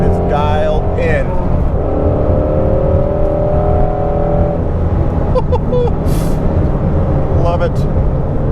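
A Shelby GT350R Mustang being driven, its engine droning loud and steady from inside the cabin with rising and falling revs and tire roar, while someone talks over it.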